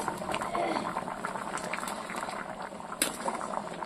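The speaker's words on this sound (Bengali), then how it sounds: "জল দিয়ে দিয়েছি, দেখো টক বগিয়ে ফুটছে" Meat curry boiling hard in a pot after water is added, a steady close bubbling and gurgling that runs throughout, with one sharper pop near the end.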